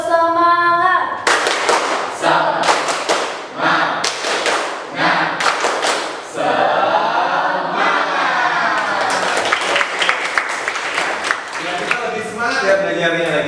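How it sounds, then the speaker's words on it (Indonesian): A classroom of students performs a rhythmic clapping ice-breaker chant, sharp bursts of group claps in patterned beats mixed with chanting voices, loud and close throughout. "Tepuk semangat."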